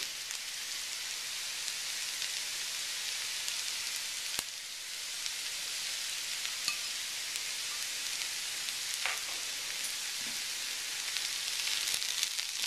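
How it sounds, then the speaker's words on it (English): Onions browning in a frying pan for South Indian tomato rice give off a continuous hissing sizzle with faint crackles and pops, steady and fairly close, with no voices over it. "As the onions in the pan slowly turn brown"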